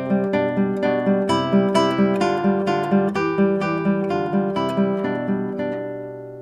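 A classical guitar plays a top-line melody over a repeating ostinato bass in Carulli's Andante in A Minor, evenly plucked notes, close and unaccompanied, ending on a sustained ringing chord.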